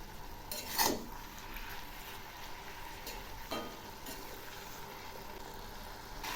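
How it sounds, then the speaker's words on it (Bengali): Cabbage for a Bengali badhakopi ghonto is stirred in a pan with cumin paste and ginger paste, giving a soft, steady sizzle. Two brief scraping stirs stand out, the first a little louder than the second. "আবার একটু নেড়ে দিচ্ছি।"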